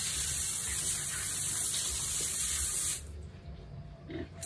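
Water sprays and runs from an opened drinker in a poultry house for 38-day-old chickens, a loud steady hissing flow that cuts off abruptly partway through, leaving quieter room noise.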